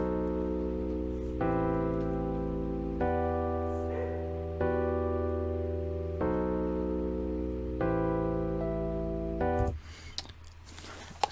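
Chord progression for a beat built in FL Studio: six sustained synth chords, each held about one and a half seconds, played alone and clean, ending in a short noisy tail.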